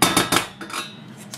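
Chopped onion and garlic tipped into a small pot, heard as a few close clinks and scrapes of utensil against metal cookware, with no talking.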